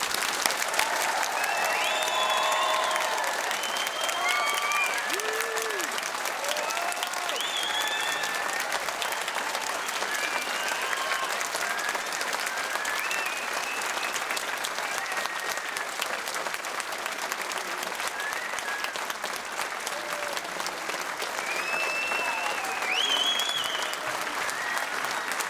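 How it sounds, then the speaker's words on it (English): A large graduation ceremony audience in Glasgow applauds at length, a dense, steady wash of many hands clapping with scattered cheers and calls rising over it throughout. "Let's give these amazing people one huge, thunderous round of applause."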